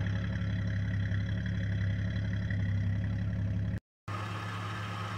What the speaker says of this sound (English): A nice healthy exhaust note.